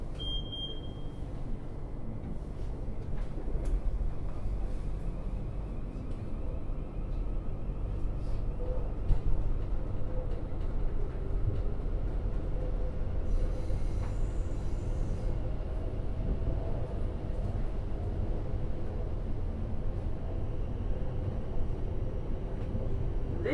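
Shepperton to London Waterloo passenger train running on rails, a steady loud low rumble and rattle from inside the carriage throughout, with a short high electronic tone at the start.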